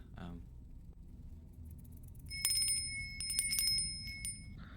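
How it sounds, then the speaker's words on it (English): A small bell rung on request, bright ringing strikes that repeat and linger, heard clearly after someone speaks briefly. "Would you like to give an example of your bell?"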